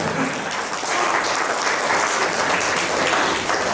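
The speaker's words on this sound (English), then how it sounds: "So another big round of applause." Dense, steady applause from a sizable crowd at a yoga summit fills the whole stretch, loud and even with no pauses or voices.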